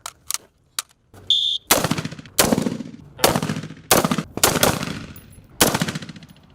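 Rifles fired by a SWAT team during ballistic shield training at an outdoor range: several sharp, loud shots, some in quick doubles and bursts, each with a ringing decay, plus a brief electronic beep early on.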